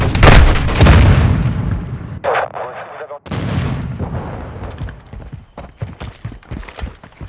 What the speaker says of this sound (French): J'utilise une charge pénétrante.